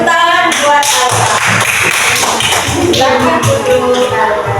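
A classroom audience applauds for a student named Alfa: a dense burst of close hand clapping that runs for several seconds, mixed with shuffling and a few stray voices.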